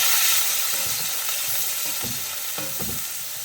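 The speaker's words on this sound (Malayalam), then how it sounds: "ചെറിയ ഉള്ളിയും ചേർത്തൊന്ന് വഴറ്റിയതിന് ശേഷം" Sliced shallots sautéing in a pan for egg curry, a close, steady sizzle with bursts of stirring and scraping clatter throughout.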